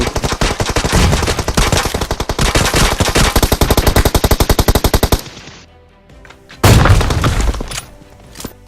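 Rapid automatic gunfire in the PUBG video game, a long rhythmic burst of loud close shots that stops abruptly, then after a short pause another loud burst and a few scattered shots.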